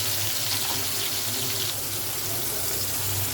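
A kitchen tap runs in a strong, steady stream while fish is rinsed under it, a loud continuous close splashing of water into a sink.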